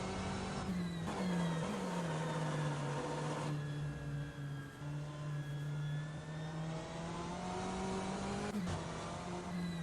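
Simulated BMW M8 GTE race car at full throttle around Spa in rFactor 2, its engine holding a loud, steady high-pitched drone with brief dips at gear shifts, no voices over it.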